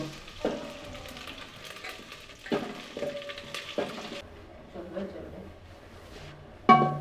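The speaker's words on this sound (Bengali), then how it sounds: "এবার চিকেনটাকে এর মধ্যে ঢেলে দিব।" Marinated chicken for chicken handi tipped into a hot pot, bursting into a loud sizzle that keeps frying and crackling over several seconds, with a voice speaking at moments.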